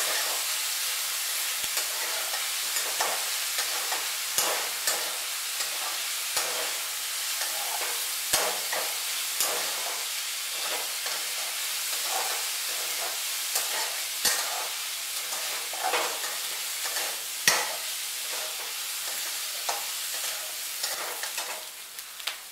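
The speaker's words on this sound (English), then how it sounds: "fry the onions till they become soft" Onions frying in a pan for kande pohe, cooked until soft and golden brown while being stirred: a steady, close hiss and sizzle broken by frequent scraping clicks of the spoon, with no talking.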